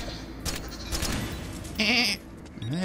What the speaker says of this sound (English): They have goat sounds.